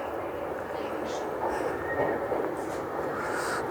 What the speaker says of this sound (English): Oh, another 375 unit heading up to Charing Cross.